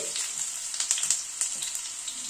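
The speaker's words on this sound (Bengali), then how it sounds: "তেলটা গরম হওয়ার পরে আলুগুলোকে আগে ভেজে নিচ্ছি।" Parboiled potatoes fry in hot mustard oil with a soft, crackling sizzle and a flurry of small, quick pops close by, fairly quiet, with no one speaking.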